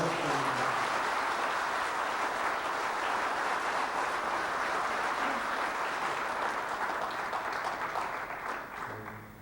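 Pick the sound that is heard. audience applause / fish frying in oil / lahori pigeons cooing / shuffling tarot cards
audience applause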